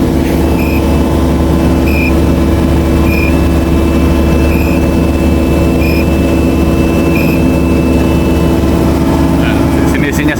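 Asphalt trucks at a night highway paving site in Japan hold a steady low engine drone, with a faint periodic beeping above the constant rumble.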